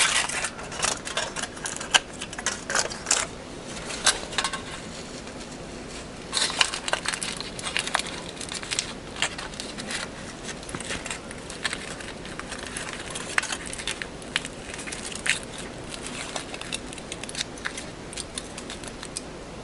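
Aluminium foil crinkling and rustling as it is wrapped by hand around a rolled napkin cylinder for a spun cotton cake charm, a close, busy stream of crisp crackles and sharp crinkles throughout.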